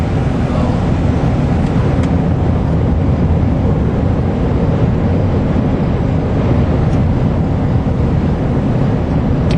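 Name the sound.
wind blowing dust outside during drive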